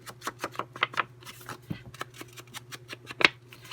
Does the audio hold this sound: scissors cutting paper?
yes